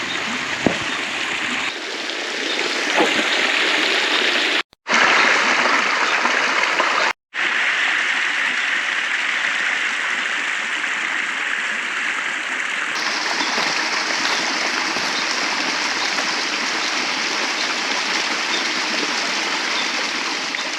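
A waterfall and the creeks around it in Southern California make a continuous broadband rush of flowing water. It is loud and steady throughout, with two brief cuts, and no voices.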